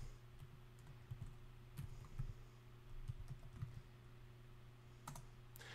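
Login credentials are typed on a computer keyboard in irregular bursts of soft, close key clicks over a low background hum, with no voices.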